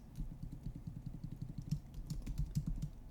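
Steady run of close, crisp keystrokes on a computer keyboard, quick and slightly uneven in rhythm, continuing throughout with no voice over them.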